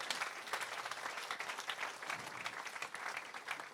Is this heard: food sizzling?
no